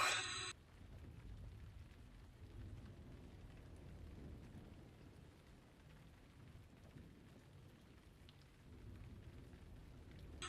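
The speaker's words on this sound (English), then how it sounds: "And now it's raining, which is worse." Steady rain falls in the Ravenloft wilderness of a video game, a constant hissing downpour with low rumbling underneath, continuous and moderately loud throughout with no talk.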